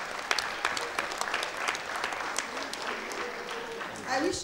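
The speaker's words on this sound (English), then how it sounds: "Thank you, clap for him." An audience applauds at a keynote event, with dense, sustained clapping throughout that swells briefly near the end before cutting off, and no voices rising above it.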